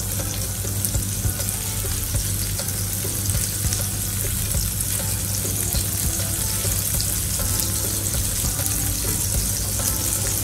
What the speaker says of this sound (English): now I'm sauteing Brussels sprout, broccoli and cauliflower